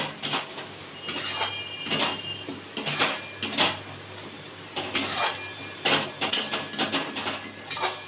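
Pieces of chicken go into a pan of spices for oil-free chicken and are stirred in, giving repeated clattering scrapes and knocks of a utensil against the pan in irregular bursts, close and fairly loud, with no talking.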